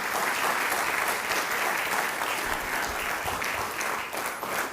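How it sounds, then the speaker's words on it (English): Sustained applause from a book fair audience at Miami-Dade College fills the room, steady and dense throughout with no talk over it. "Join me in giving them a big round of applause."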